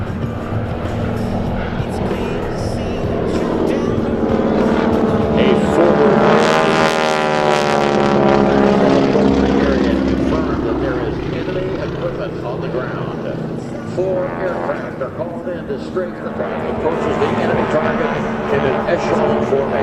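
Geico Skytypers propeller aircraft fly in echelon formation at the 2017 New York Airshow, a loud continuous engine drone that swells and sweeps past overhead midway before fading, with a commentator talking over it.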